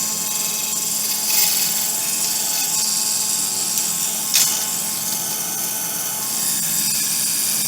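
A Lyman case trimmer motor spins back up to speed, a steady high-pitched whine that holds constant for several seconds, with a couple of brief louder bursts as the cutter touches brass; no talking.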